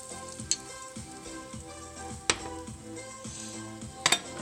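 An egg fries in a buttered pan with a constant close sizzle, broken by a few sharp clicks and scrapes of a utensil against the pan, with no one speaking.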